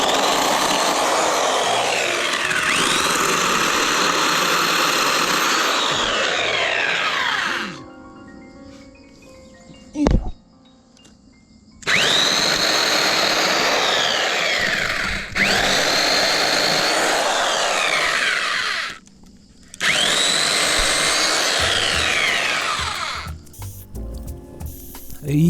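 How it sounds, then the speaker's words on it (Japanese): A power tool buzzes loudly in long sustained bursts while cutting branches off a cycad (sago palm) outdoors, with short pauses and a sharp knock between runs. "じゃあまずはね、枝から落としていきます。"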